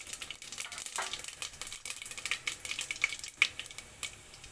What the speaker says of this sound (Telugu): ఈ ఆయిల్ వేడైన తర్వాత జీలకర్ర, ఆవాలు, మినపప్పు, శనగపప్పు